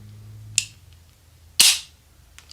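A Colt Python .357 Magnum revolver with a 3-inch barrel is dry-fired double action, giving two sharp, close metallic clicks about a second apart, the second louder.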